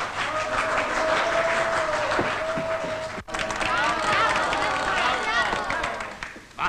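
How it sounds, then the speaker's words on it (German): Office staff in a 1931 German comedy clap their hands, a busy patter of many hands going on and off under loud talk, with one sharp break midway. "Wir klatschen. Wir klatschen."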